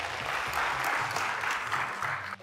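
A studio audience at a Telugu TV celebrity game show claps in a short burst of dense applause, fairly faint and fading near the end.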